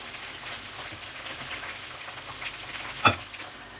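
Chicken frying in oil gives a soft, steady sizzle and crackle with scattered pops, then a single sharp clack near the end, with no talk.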